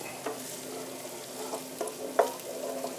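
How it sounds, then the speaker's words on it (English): Carnaroli rice stirred in a pan for butternut squash risotto, with a faint steady sizzle underneath and a few soft scraping strokes, one sharper clack near the end. "And then we will stir again to coat."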